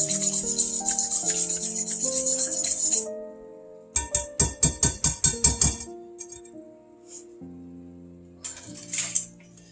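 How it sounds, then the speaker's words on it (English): An egg being whisked in a bowl for a Southern pork chop dinner, with a quick run of sharp, rhythmic clinking strokes in the middle, set against steady tonal music. "And let's whisk that up a little."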